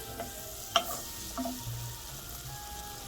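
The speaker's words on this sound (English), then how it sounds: "when the butter is nice and melted, I'm going to add my onion" Onion fries in melted butter in a pan for vichyssoise soup, a soft steady sizzle with a few small clinks early on, close and fairly quiet.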